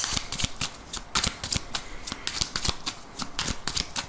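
A 32-card deck is shuffled by hand for a card reading, a rapid, dense run of crisp riffling flicks and soft slaps at close range, steady throughout with no talking.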